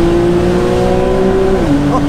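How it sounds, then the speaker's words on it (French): Porsche 991.1 Carrera 4S Cabriolet flat-six engine droning at steady revs in Sport Plus mode, then the pitch drops as the revs fall, with faint crackles toward the end; heard loud and close, with no talk. "avec notamment ces pétarades qui sont normalement caractéristiques de la GTS et qui là sont très présentes"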